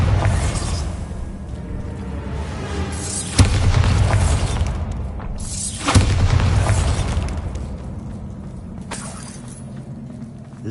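Bombarda spell blasts from the Hogwarts Legacy video game, two sharp booming explosions with crumbling debris over a dense rumbling game ambience, loud and close.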